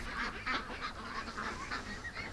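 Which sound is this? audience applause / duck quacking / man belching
duck quacking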